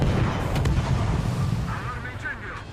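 Heavy naval gunfire in the World of Warships game booms and rumbles in a dense, sustained roar, with low blasts rolling together and a faint whistling tone toward the end.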